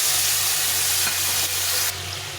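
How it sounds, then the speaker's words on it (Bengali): Masala with onion and tomato frying in a pan for a Bengali shol fish curry, a steady close sizzle with stirring scrapes that stays loud and continuous throughout, with no talking. "এখন আমি মশলাটা দিয়ে একটু কষিয়ে নিচ্ছি"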